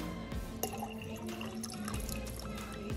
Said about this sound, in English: There's still glitter in the bottom, so we're gonna put a little bit more distilled water.